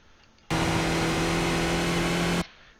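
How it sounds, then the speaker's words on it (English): A Skip Barber race car at Zandvoort in the iRacing sim sounds a sudden, loud, steady engine drone with a constant pitch for about two seconds, then cuts off sharply, with no voice over it. "just easing on the throttle"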